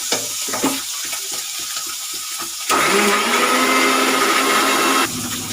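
A mixer grinder grinding ginger and green chili into paste whirs loudly in a sustained burst after a few clinking taps, then cuts off abruptly.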